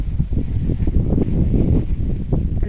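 Strong wind gusting across a rooftop terrace before a monsoon rain, a loud continuous buffeting roar that swells and dips over the microphone, with no speech.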